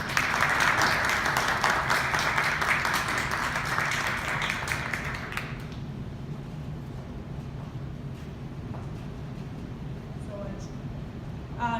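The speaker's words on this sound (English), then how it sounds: "Can we give her another round of applause, please?" An audience applauds after a speech against the Muslim ban, dense clapping for about five seconds that cuts off, leaving a quieter room with scattered claps and murmur.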